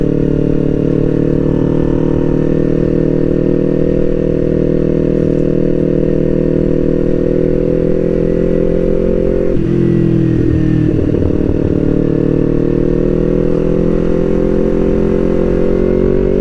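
A Kawasaki Ninja 250 FI engine drones steadily at close range while riding, with a rich low rumble, briefly dipping and shifting pitch partway through before resuming its even pull.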